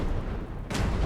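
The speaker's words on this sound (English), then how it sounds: "He's shooting. He's shooting." A single loud gunshot crack rings out in Fallout 4, cutting sharply through a dense, rumbling game soundscape near the end.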